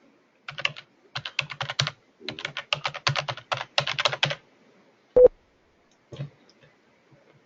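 Bursts of quick, crisp keystrokes on a computer keyboard come in rapid clusters as login credentials are entered, followed by a sharper single key press and a final few taps, close and clear with no talking.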